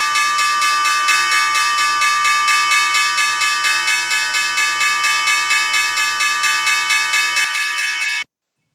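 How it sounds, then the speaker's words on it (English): The Wall Street stock exchange opening bell, a loud, steady electronic bell ringing continuously for about eight seconds with a rapid pulsing rattle, then cutting off abruptly. "And here we have the opening bell on Wall Street."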